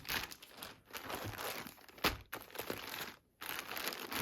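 Plastic packaging bags holding compression sportswear rustle and crinkle up close in irregular bursts, with a brief quiet gap near the end.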